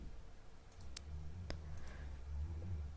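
A computer mouse clicks a few times during work in Archicad 20 architectural software, with sharp clicks near one second and one and a half seconds over a steady low room hum.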